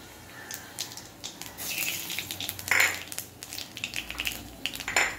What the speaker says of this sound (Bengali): এই যে দেখুন কালো জিরে আমি দিয়ে দিচ্ছি